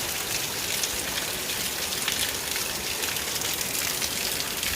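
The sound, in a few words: heavy rain falling in an Indian village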